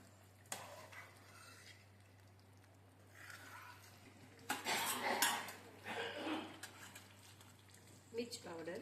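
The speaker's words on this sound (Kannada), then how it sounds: "ಚೆನ್ನಾಗಿ ಮಗಚಬೇಕು." Mashed vegetables for pav bhaji are stirred in a pan, with metal spoon scrapes and clinks against the pot that come in scattered bursts, louder toward the middle, while a person talks quietly at times.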